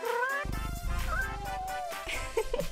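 A kitten meowing in a series of drawn-out, wavering cries, loud and close, ending in a few shorter squeaky calls.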